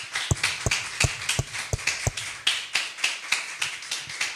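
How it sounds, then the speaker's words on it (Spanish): A congregation claps during a worship service, with sharp, uneven claps in a loose rhythm, fairly close and without talk. "Denle un fuerte aplauso a nuestro Elohim"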